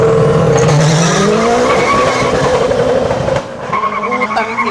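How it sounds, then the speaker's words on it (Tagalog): An all-wheel drive FD race car in a video game, engine roaring continuously with tires squealing and skidding, loud and close for the whole stretch, the revs dropping briefly near the end. "Pero tingnan natin, all-wheel drive FD."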